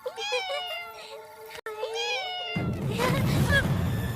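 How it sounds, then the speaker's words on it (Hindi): A second cat gives long, wavering meows, two clear cries close by, followed by a burst of broad rustling noise. "दूसरी बिल्ली।"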